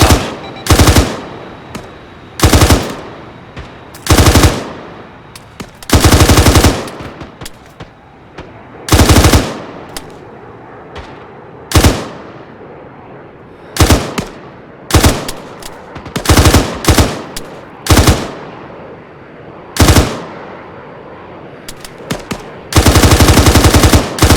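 Bursts of automatic gunfire in the military shooter game ARMA 3, loud and close, firing in repeated short and long volleys with brief gaps between them.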